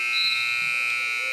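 A basketball game buzzer sounds during a junior men's basketball game against Spruce Grove, a steady electronic tone held for over a second at moderate loudness, with faint gym noise underneath.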